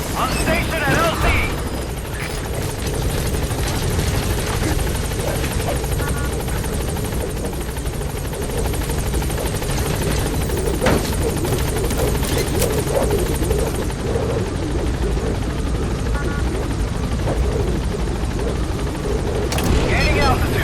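The Pequod helicopter from Metal Gear Solid 5 approaches a landing zone, its loud continuous rotor thump and engine whine running throughout, with game effects and radio chatter layered over it.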